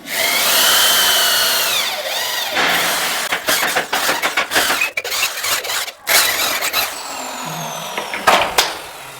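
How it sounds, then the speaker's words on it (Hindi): A hammer drill boring a hole into a wall while a wooden wall cabinet is being built, heard as loud, sustained grinding bursts that stop and restart several times, close by and with no talk. "इसे हटा के हैमर की मदद से सुराख कर लेंगे"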